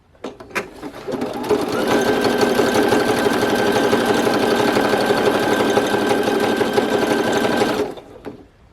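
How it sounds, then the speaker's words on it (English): A sewing machine runs an overlock stitch on Velcro for a belt: a steady, loud, fast mechanical chatter that starts after a few clicks, holds evenly for about six seconds, then winds down and stops, close and alone. "Basically, I'm making an overlock stitch."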